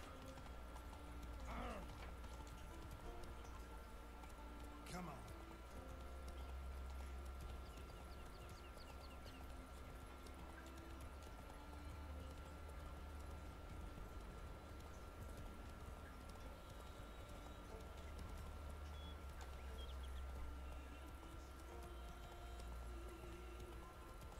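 Horse hooves clip-clop steadily throughout in the video game The Witcher 3, a faint, even trotting rhythm over low in-game ambience, with a few brief mechanical clicks.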